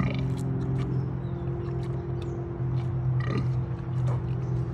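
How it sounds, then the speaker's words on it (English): A low, burp-like oinking from a guinea hog at a zoo, a few grunts over steady low background hum, fairly faint. "they make, yeah. That's oinking."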